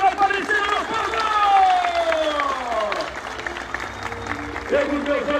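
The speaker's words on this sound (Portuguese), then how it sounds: "Uma salva de palmas para Nossa Senhora Aparecida, meu povo!" A crowd claps at the inauguration of a sports arena, a continuous spread of applause with some cheering, partly overlaid by loud sustained tones from music or a voice over a sound system.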